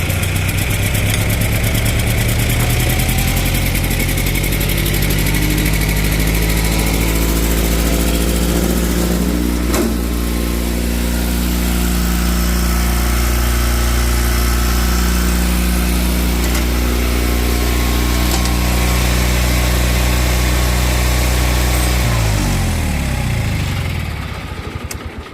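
A Kohler KT17 twin engine on a Bolens 1700H garden tractor catches and settles into a steady, loud idle close by, with a brief throttle change near the end.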